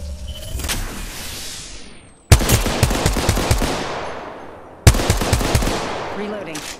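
Rapid bursts of automatic gunfire in a battle-royale shooter video game, loud and close, with sharp sudden onsets and dense repeated shots over a steady background din.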